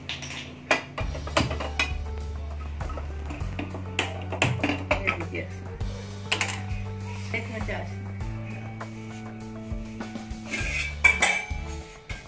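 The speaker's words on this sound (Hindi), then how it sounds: "दो फ्राई पैन रखे, एक में घी डाल रहे, एक में चाशनी बना रहे।" Two frying pans set down on a home kitchen stove, one taking ghee and one syrup, with metallic clanks and clinks of pans and utensils heard under someone speaking throughout.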